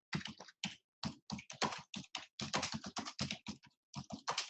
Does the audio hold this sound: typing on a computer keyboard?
yes